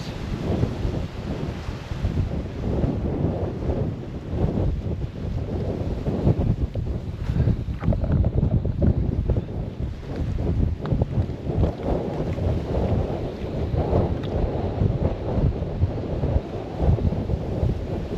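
Strong wind buffets a microphone beside the River Humber, a constant heavy rumbling roar with gusty surges throughout, no voices heard.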